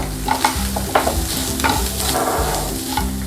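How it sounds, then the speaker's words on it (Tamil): Ground cumin, coriander and chili powders are stirred in a hot cooking pan, with loud repeated scraping strokes over a steady sizzle, close and rhythmic. "ஜீரகம் தூள், தனியாத்தூள் அண்டு மிளகா பொடி எல்லாம் ஆட் பண்ணிக்கலாம். பண்ணிவிட்டு நல்லா மிக்ஸ் பண்ணிக்கலாம்."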